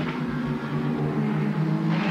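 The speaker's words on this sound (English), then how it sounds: "And Longhurst goes through in the last corner" BMW touring race cars of the 1987 AMSCAR round at Amaroo take the last corner, a steady loud engine drone holding a constant pitch throughout with no voices over it.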